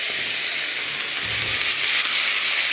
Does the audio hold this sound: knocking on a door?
no